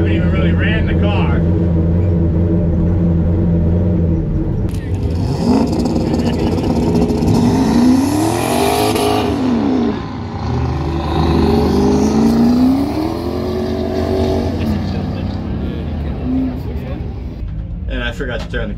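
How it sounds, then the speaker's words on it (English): Cars race at dirt drag races, their engines revving and rising in pitch as they launch and pass at a distance. A person talks over the sound throughout. "So I guess they're doing some dirt drags."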